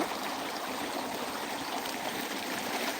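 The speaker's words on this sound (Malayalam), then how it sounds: "തോട് കാണാൻ വന്നതാ" A steady stream flows and babbles continuously, a dense even rush of water with no voices.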